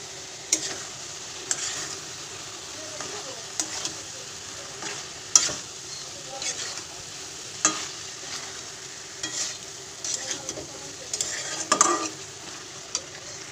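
Bottle gourd with shrimp cooks in a pan, a soft steady sizzle broken by frequent sharp clicks and scrapes of a spoon stirring against the metal, close and with no voices.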